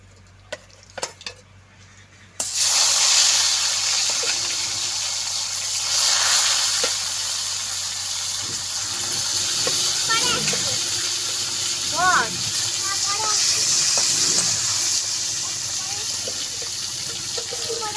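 Fresh fish fry in a pan of hot oil with a loud, steady sizzle that bursts in suddenly and holds close and continuous. Voices talk over the frying now and then.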